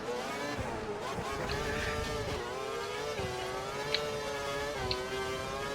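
A Formula 1 racing car engine in the F1 2012 video game whines steadily at high revs, its pitch rising and dipping through gear changes over a continuous, moderately loud drone.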